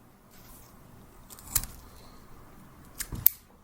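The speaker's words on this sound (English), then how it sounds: "now I'm going to trim the ends. So I'm going to take my scissors" Scissors snip the trimmed ends of a pine needle basket, three or four sharp close clicks spaced apart against a quiet background.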